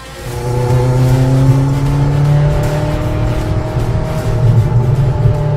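A Ferrari F40 LM race car drives hard and loud, its engine droning steadily with rising and falling pitch as it accelerates, heard up close without any talk.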